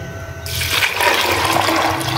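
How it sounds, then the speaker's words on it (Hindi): Water poured into a pan of soaked mash lentils on a stove, a loud, steady gushing splash that starts abruptly and continues without a break, with no voices. "अब इसमें मैं दाल को ऐड करूँगी और इसमें करूँगी पानी को ऐड"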